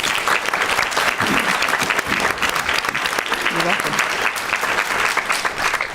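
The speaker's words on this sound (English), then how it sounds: "she deserves a huge round of applause as well for what she did" Loud, sustained audience applause at a school board meeting, many hands clapping in a continuous dense patter, with voices faintly audible beneath it.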